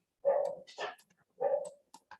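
Dogs bark close by in two short bursts, each a sharp bark followed by a quick yip, with brief silence between.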